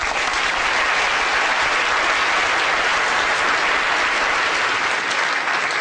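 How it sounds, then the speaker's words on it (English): Dense, steady applause from a lecture audience at a 2011 brain talk, loud and continuous for the whole stretch with no voices above it. "let's have a big round of applause for a small brain"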